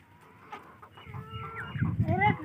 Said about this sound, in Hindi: मुर्गी पकड़ो